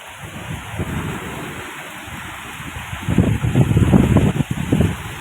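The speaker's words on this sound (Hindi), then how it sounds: "आवाज़ आ रही होगी फ्रेंड्स आपको तूफान की।" Steady rain hisses throughout a storm in Delhi while deep rumbling thunder swells and rolls in the second half, loud and close, with no voices.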